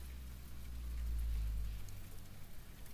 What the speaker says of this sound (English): Let me turn the rain up.